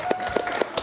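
Studio audience clapping at the close of a Kyrgyz dating show season finale, a short burst of scattered claps with a faint steady tone running underneath.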